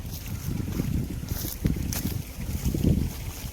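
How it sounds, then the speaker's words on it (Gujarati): Strong wind blows in gusts across an open field outdoors, rumbling hard against the microphone with a low, uneven roar. "પવન આજમાં વધારે છે પવન જેમ પવન પડતો એમ ટાઈટ વધતી જાય છે"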